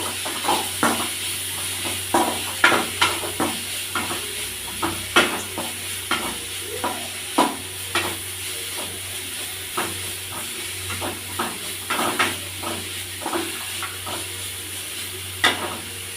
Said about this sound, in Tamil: எல்லாம் போட்டு வதக்கணும். நல்லா அந்த சிவப்பு நிறம் வர வரைக்கும் நல்லா வதக்கிக்கோங்க